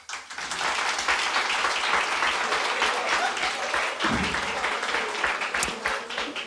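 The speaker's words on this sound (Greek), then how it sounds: "θα ήθελα ένα χειροκρότημα" Audience applause at a Greek stand-up comedy show, a steady wash of clapping from a crowd that holds for several seconds before thinning near the end.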